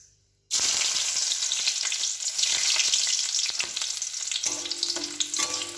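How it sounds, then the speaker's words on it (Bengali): Chopped garlic dropped into hot oil in a pan that has just been used to fry mushrooms for chilli mushroom, bursting into a loud, steady sizzle after a brief silence, with faint stirring through to the end. "আগে রসুন কুচি দিয়ে দেবো"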